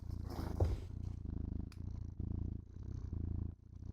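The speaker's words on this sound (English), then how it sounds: "I do also have the purring going on" A cat purrs steadily and close, a low rhythmic rumble pulsing in even breaths with a brief louder burst early on.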